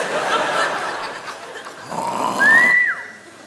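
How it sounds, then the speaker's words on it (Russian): A woman snores loudly and exaggeratedly in a comedy sketch. Rasping breaths end in a rising whistle-like squeal, with audience laughter mixed in. "она храпит"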